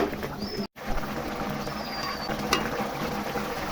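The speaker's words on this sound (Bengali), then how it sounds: "আর এদিকে বলক উঠে চলে এসেছে" Broth for a Bengali fish curry made with pumpkin boils in a pot, a steady, close bubbling hiss with faint higher squeaks over it and a brief cut partway through.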